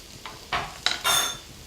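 Sugar, vinegar, ketchup and soy sauce being mixed together for a sweet and sour sauce, heard as a few short scraping and clinking strokes of a utensil against a bowl, close and moderately loud, with no talking.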